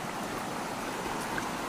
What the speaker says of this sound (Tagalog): Yun na yung ilog.